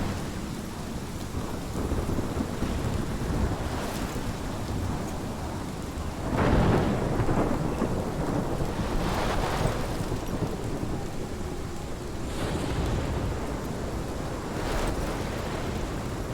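Thunderstorm in the video game Life is Strange: steady heavy rain with rolling rumbles of thunder swelling several times, loudest near the middle and again toward the end, with no voices.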